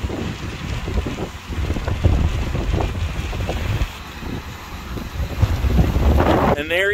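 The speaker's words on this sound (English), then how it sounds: "even the awning's blowing in the wind over there" Strong wind buffeting the microphone in gusts on a California mountainside beside a broken-down RV, a loud, rough rumbling roar that swells and fades throughout.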